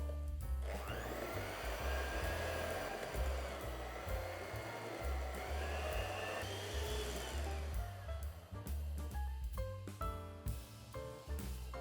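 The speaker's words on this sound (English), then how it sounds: "So I'm going to mix this up now." An electric mixer whirs steadily through Madeira loaf cake batter, close and continuous for most of the stretch, then stops and starts in short bursts near the end.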